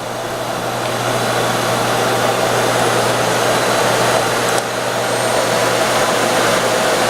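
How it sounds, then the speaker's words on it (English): A Miele Compact C1 canister vacuum cleaner running steadily at full power, a loud continuous motor roar with a brief dip partway through. "this vacuum has incredible suction power"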